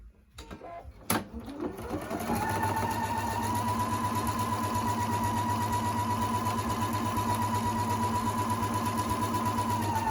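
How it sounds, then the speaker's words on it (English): A sewing machine stitching a quarter-inch seam in fabric, starting after a few clicks and then running in a steady, loud, continuous whir close by. "You're going to sew a 1/4 inch seam from top, and you're going to go all the way down to the bottom."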